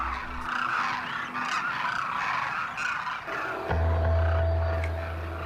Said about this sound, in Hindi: थार में माइग्रेट होकर आई ये डेमोसेल क्रेन्स हजारों का झुंड बनाकर रहती हैं।